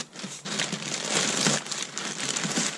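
A bubble wrap envelope holding an Eachine EX2mini drone quadcopter is handled close by, giving a continuous crinkling, crackling rustle with small pops that swells and stays dense throughout, with no talk.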